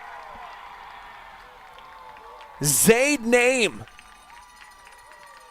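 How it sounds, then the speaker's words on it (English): A short roar from the Cougars crowd at a boys' district final soccer game after Southview takes the lead, two loud swelling bursts of cheering over faint distant background noise. "Big roar here from the Cougars as they take the lead."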